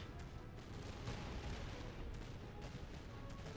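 Musket volleys in the Master of Command strategy game, a dense, continuous roar of overlapping gunfire and battle noise with no clear single shots, steady and loud throughout.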